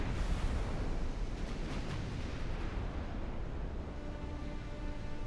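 Naval gunfire rumbles through the warship battle game Ultimate Admiral Dreadnoughts: a steady heavy roar of distant cannon blasts and sea noise, with a few sharper crackles early on.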